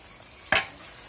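A single short scraping stir of a pan of mung beans with dried fish and meat, a brief rasp rising above a quiet kitchen background.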